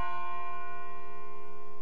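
A bell rings on steadily in Persona 3 FES, a sustained metallic tone with many stacked overtones that holds evenly for about two seconds, fairly quiet and alone without talk.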